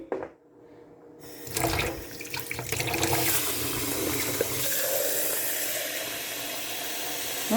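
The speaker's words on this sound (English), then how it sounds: "Mix it with a little bit of water." Water runs into a bottle holding crushed eggshells, a steady splashing pour that starts after a brief pause and continues to the end, fairly close.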